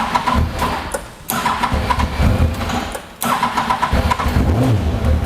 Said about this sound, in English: Got to be honest, that's a sweet sounding engine, really quite quiet actually.